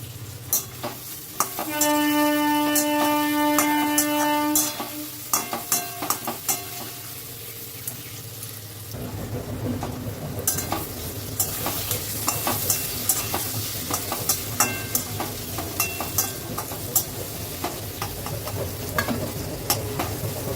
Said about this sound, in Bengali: সব কিছু ভালো করে মিশিয়ে নিচ্ছি, নিয়ে একটু ফ্রাই করে নেব।